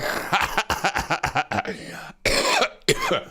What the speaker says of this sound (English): I had a little cough attack there.